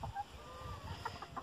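Chickens cluck softly in a backyard coop, with a rooster nearby, in a brief, faint sequence of short clucks and low murmurs heard at a distance, with no talking.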